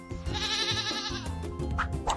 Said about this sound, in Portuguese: É uma cabra.